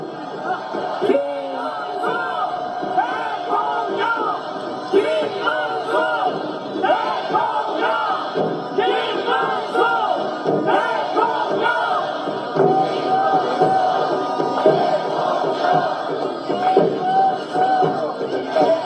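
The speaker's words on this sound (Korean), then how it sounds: "여러분 큰 박수와 함성으로 맞아주시면 고맙겠습니다." A crowd with children at a presidential election campaign rally cheers loudly, with many overlapping shouts and raised voices forming a continuous, lively din.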